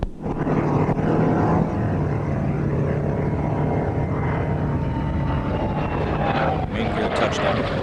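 Space shuttle Atlantis rolling out on runway 15 at Kennedy Space Center after landing, a loud sustained roar and rumble with a slowly falling whine, continuous and heavy throughout.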